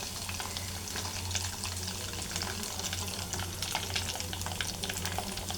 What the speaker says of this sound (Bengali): এই যে এইভাবে আমি রোলগুলো আস্তে আস্তে ভেজে নিচ্ছি।